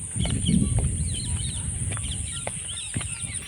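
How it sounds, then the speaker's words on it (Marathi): Several birds chirp and call in quick, scattered bursts along a footpath in the Konkan countryside, with a clucking fowl and a low rumble of background noise underneath. "छान असा पक्ष्यांचा आवाज बघा"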